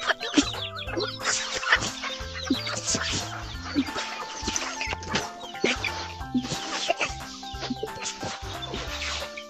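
Several chickens cluck and chatter close by in a busy, overlapping flock at morning feeding, with occasional knocks and pecking sounds among them.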